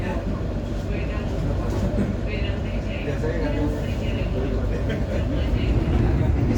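Inside an executive car of the Blambangan Express passenger train, a constant rumbling roar of running wheels and carriage noise fills the space, steady and fairly loud, with faint voices in the background.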